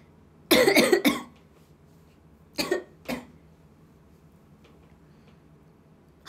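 Several coughs in short bursts: a cluster of three quick coughs, then a pause, then two more, close and fairly quiet in a still room.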